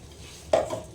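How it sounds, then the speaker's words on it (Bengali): Sudden sizzling splash as a little blender rinse water is poured into a pan of frying matar paneer masala, a sharp hiss rising at once and then tapering off over a quiet kitchen background. "এটা যে জলটা আমি মিক্সিতে বেটলাম না বুঝলা, সেই জলটা একটু আমি দিয়ে দিচ্ছি ধুয়ে, একটু সামান্য।"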